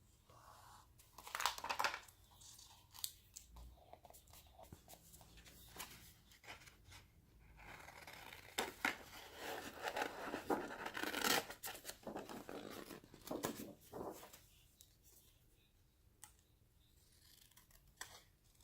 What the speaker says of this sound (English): So I'm going to go ahead and cut another one of those out.